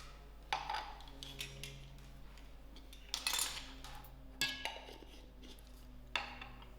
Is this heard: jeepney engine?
no